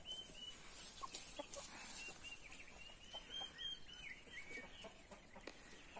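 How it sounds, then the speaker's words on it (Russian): Hens from a parent flock, one recently broody after hatching chicks, cluck softly and intermittently at a distance, their faint calls scattered over a quiet farmyard background. "Вот такие наши курочки."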